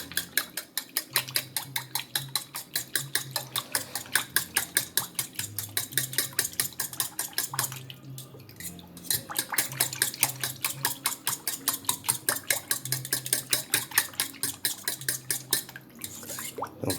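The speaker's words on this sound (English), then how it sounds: "And we're gonna try to whisk it a little bit." A whisk beats steadily against a pot while gravy for Salisbury steak thickens, the fast clicking strokes running close and continuous with only a brief pause.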